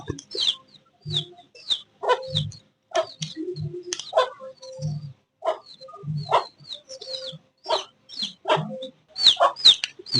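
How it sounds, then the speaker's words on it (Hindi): Hen clucking and calling to her chicks, with short repeated clucks and higher chirps scattered through the stretch, close and fairly loud among other poultry sounds. "ये चूजे, कुकड़ी रो रही है चूजों के लिए।"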